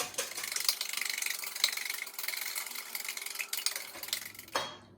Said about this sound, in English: Now let's give that a good whisk up.